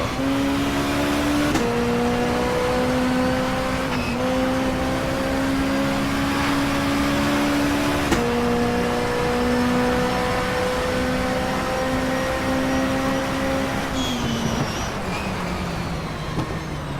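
A BMW four-cylinder race car engine in Race 07, droning steadily and loudly throughout with rising revs and abrupt pitch drops at each gear change, alone without talk.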